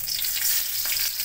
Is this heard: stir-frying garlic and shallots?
yes